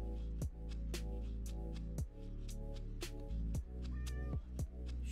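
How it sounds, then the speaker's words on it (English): A cat meows repeatedly nearby, short cries spaced across a few seconds over a steady low hum in an indoor room, with no talking. "Shush, cat."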